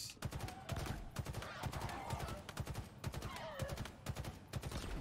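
Rapid, continuous gunfire from a first-person shooter battle in Halo Infinite's legendary campaign, loud bursts rattling steadily for several seconds with dense impacts and effects layered over the shots.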